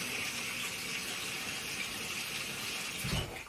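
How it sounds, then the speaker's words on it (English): Cold water from a tap gushes steadily over partly cooked potatoes in a pan, a continuous close splashing hiss with a brief heavier slosh near the end. "I'm now just going to chuck some cold water over them"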